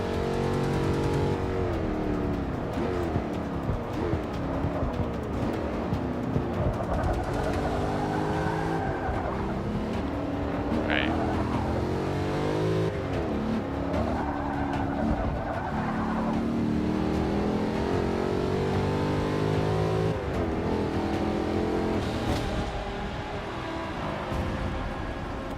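Race cars in Forza 6 Apex roar close and continuous, engines climbing and dropping through gear shifts, with tires squealing briefly partway through the race.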